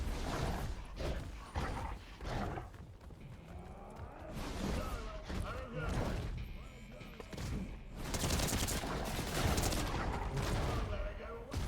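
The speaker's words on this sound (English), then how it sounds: "Is that a real person shooting at me or just those shitheads?" Gunfire from another player in the Fortnite video game, dense bursts of shots and crashing impacts running almost continuously, loud and busy throughout.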